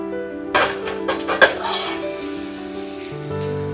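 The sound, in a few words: onions with ginger and garlic sizzling in pan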